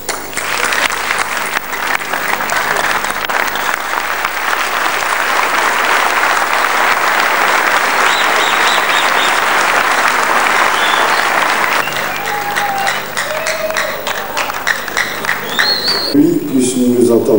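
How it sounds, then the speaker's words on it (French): An audience at a meeting in the Palais du Parlement stands and applauds to welcome a general, a loud sustained ovation of clapping and crowd noise that fades near the end as a voice begins speaking. "nous vous prions de bien vouloir vous mettre debout et sous vos ovations accueillir"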